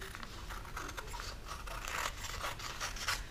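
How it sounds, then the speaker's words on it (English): Fabric scissors slicing through quilting fabric for fusible applique pieces, a soft steady rasp of blades with repeated short snips and scraping strokes, close but very quiet, no talking. "So then you take your fabric scissors."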